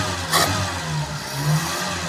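A carbureted Ford Laser engine with no accelerator pump is revved under throttle, rising in two quick swells over a steady running hum, loud and close with no talk.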